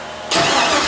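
A turbocharged LS V8 cranks and catches at about 0.3 s, jumping from near quiet to a loud, steady roar that holds close and strong to the end.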